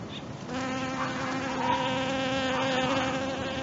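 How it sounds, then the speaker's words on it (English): A steady, close insect buzz with a rich droning hum, like bees hovering near the listener, continuous for a few seconds with no talking. "They get off and they kind of buzz toward me"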